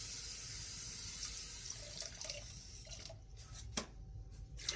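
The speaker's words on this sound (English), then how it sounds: "So I'm going to put 1 cup of water in each." Tap water runs steadily into the inner pots of an Instant Pot and a rice cooker for sweet potatoes, a continuous close splashing stream that thins toward the end with a few drips.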